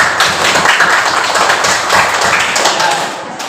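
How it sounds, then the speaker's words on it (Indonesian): A group of students claps together in a classroom, loud and close, a busy overlapping patter of hands that runs steadily and fades a little near the end. "Tepuk tangan untuk kita semuanya."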